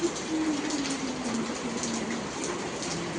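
Rain patters steadily outdoors on a dark early morning while cows are milked, a constant even hiss that holds throughout with a faint tonal whine drifting underneath.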